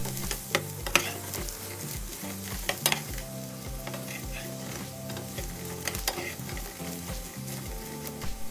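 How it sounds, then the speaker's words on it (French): Potatoes frying with garlic in oil in a hot pan, a steady crackling sizzle with repeated stirring scrapes and occasional clacks of a utensil, close and continuous over soft background music, no voices. "on va les faire revenir dans l'huile et dans l'ail"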